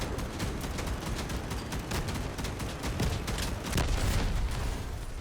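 Whirls guns fire in a video game: dense rapid bursts of gunfire with booming impacts roll on continuously and loudly, with no speech.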